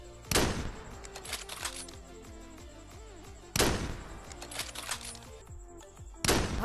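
Three heavy sniper shots from the Scarfall 2.0 video game, spaced a few seconds apart, each a sharp loud crack with a ringing echo tail over a steady game background hum.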